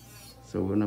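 An electric nail drill grinds and blends an acrylic nail near the cuticle, a steady buzzing drone that turns into a louder, harsher rasp about halfway through as the bit meets the acrylic, heard up close.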